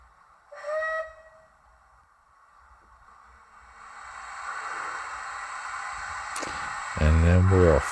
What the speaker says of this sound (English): the train can leave the station to go back onto the main line